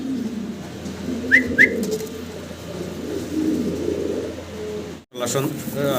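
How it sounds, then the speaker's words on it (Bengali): A pair of saddle pigeons give low, murmuring coos close by, with a couple of brief chirps and a sudden rustle near the end. "খুব সুন্দর এক জোড়া আমরা স্যাডেল ফিলব্যাক কবুতর দেখতে পারতাছি"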